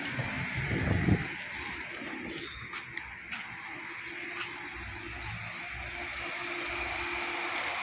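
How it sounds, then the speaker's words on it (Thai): A Honda City 1.5 S car engine idles quietly with a low, steady hum throughout, with a brief thump early on and a few faint clicks over the smooth drone. "เป็นไงฮะเครื่องยนต์เงียบๆ นิ่งๆ เลย เหมือนไฮบริดเลย"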